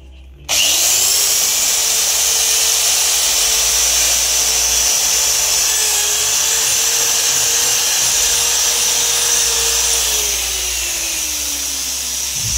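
An electric drill bores holes in a council box, running at a steady high-pitched whine for over ten seconds, loud and close, with the pitch dropping slightly as it slows at the end; no talk.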